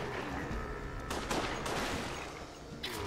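A burst of gunfire in Resident Evil: The Darkside Chronicles plays over a dense, noisy game soundscape, with a cluster of shots near the middle and another at the end.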